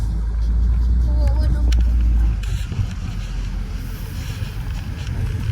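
Interior rumble of a moving car, a low steady drone with wind noise, loud at first and easing after a couple of seconds, with faint voices in the cabin.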